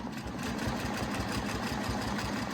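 A sewing machine quilts a design on fabric with a fast, steady mechanical whir and rhythmic needle pulse, close and continuous, with no talk.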